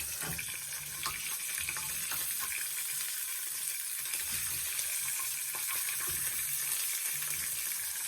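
Beef steak cut in half fries in a pan with a steady, loud, close sizzle and dense crackling spatter that holds evenly throughout, alone without any talking.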